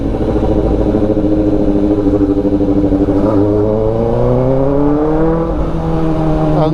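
Close and loud, a Kawasaki Ninja ZX-4RR on a straight pipe exhaust burbles at a rough idle, then revs up in rising sweeps with raspy, crackling harmonics.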